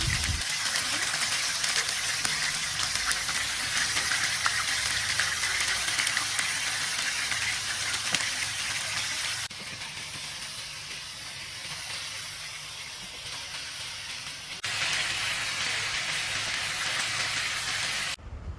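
Marinated chicken frying in white cooking oil in a frying pan, a loud dense hiss and crackle, close and steady, easing slightly midway before returning.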